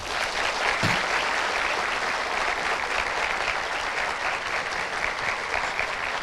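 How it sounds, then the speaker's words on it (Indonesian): An audience on a university campus greets a guest with loud, dense applause that stays even and sustained throughout, with no voices over it. "Berikan tepuk tangan yang meriah untuk Angga Fauzan."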